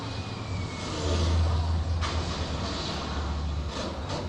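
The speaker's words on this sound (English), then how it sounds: "More than likely a diesel engine." A World War I FT-17 light tank engine runs at a museum demonstration, a continuous low mechanical rumble with a swell of revving partway through, heard alone without talk.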